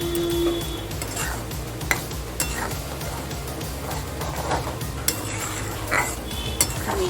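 A spoon scraping and clinking against a pan while sweet potato and tomato paste chutney is stirred, with irregular metallic taps and knocks over a low background hum.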